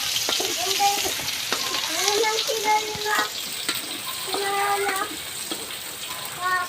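Onion and garlic sautéing in a pan for chicken tinola, a steady close sizzle and frying hiss running throughout, with stirring clinks and background voices and chatter over it.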